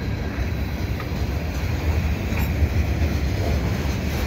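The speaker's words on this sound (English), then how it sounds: "that's a short train. That's a really short train." A short CN freight train crosses the Lachine Canal bridge in winter, a steady rumbling roll of wheels on rails heard up close and continuous, with faint squeals over the low drone.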